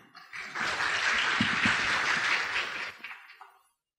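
Audience applause fills a hall, welcoming a data scientist onto the stage at a technology talk; steady dense clapping builds quickly, holds for about three seconds, then tapers off.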